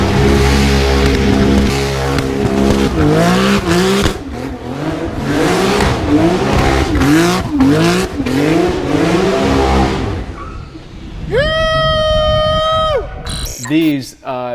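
An 800-horsepower Porsche 911 GT2 spinning donuts, its engine revving loud and close in repeated surging waves, then a high sustained tire squeal near the end.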